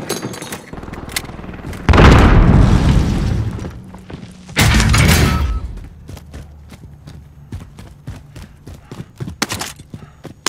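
Two heavy grenade blasts roar out in a Warzone video game, each a loud, booming burst lasting a couple of seconds, separated by scattered sharp cracks of gunfire and clattering debris.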